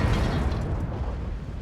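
A KV3 tank taking a hit in World of Tanks, heard as a short, heavy, low-pitched impact boom with a mechanical rattle that carries on steadily through the brief moment.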